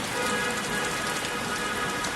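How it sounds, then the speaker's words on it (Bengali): Heavy rain pours down in a dense, unbroken hiss of drops hitting surfaces, close and constant, with no voices. "অনেক গরমের পরে অবশেষে শান্তির একটা বৃষ্টি বইতাছে"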